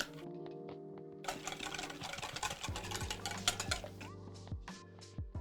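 Cake batter with melted butter being stirred by hand in a bowl, a utensil scraping and clinking against the sides in quick, irregular strokes, close up.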